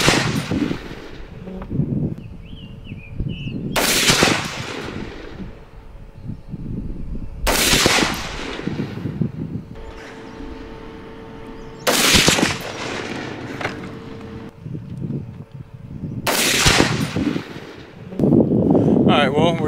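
A Sig 716i rifle fires Winchester Super 8 180 grain rounds outdoors: five loud, sharp shots spaced a few seconds apart, with wind rumble and faint background noise between them.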